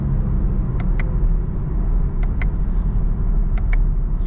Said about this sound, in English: We'll try upshifting here and see how that is.